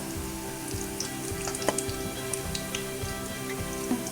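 Spinach and peas pakora frying in hot oil, a close, continuous bubbling sizzle with scattered sharp crackles and spits over a few seconds, no voices.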